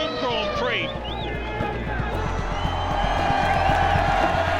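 A huge crowd at the Brazilian Grand Prix roars and cheers continuously as a home driver wins, the dense wash of voices loud and sustained with scattered whoops and rhythmic clapping mixed in.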